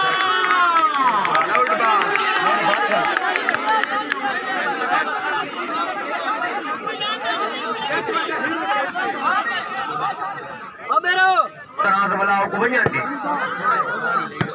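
Dense crowd noise at a lively gathering, with a roar of chatter and cheering from many people, carrying on steadily for the whole stretch and rising in a brief burst near the end.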